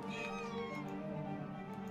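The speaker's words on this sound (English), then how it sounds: "Do you hear a cat?" A cat meows in the video game The Last Door, one drawn-out wavering meow over a steady background drone, with no talking.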